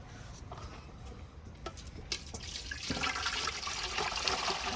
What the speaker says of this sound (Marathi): आता हे पाणी तापलेलं आहे आपण दुसऱ्या टॉपामध्ये ओतून घेत आहे